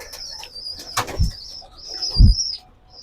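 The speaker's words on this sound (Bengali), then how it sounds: "এই যে পানি দেওয়ার পরে কবুতর গুলো দেখেন কিভাবে পানি খাচ্ছে" Pigeons drinking water flap their wings in two sharp, close bursts, with soft cooing and faint chirps in between.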